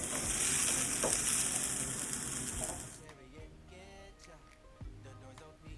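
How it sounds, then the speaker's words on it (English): Cabbage patties frying in a pan, a strong steady sizzle for the first half that then drops to a quieter crackle with occasional knocks and scrapes of the pan. "I want to say they fried on each side about 2 to 3 minutes"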